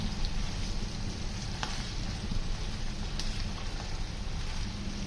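Arvi masala sabzi with whole green chilies sizzling steadily in a pan over low flame while being stirred, a continuous close frying hiss with a few faint utensil taps.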